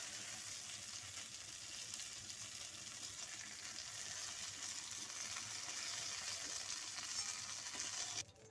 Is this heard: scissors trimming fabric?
no